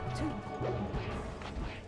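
A down smash attack lands in the fighting game Super Smash Bros. Melee during a tournament match: a sharp crashing hit with a quick whoosh, brief and busy over game noise.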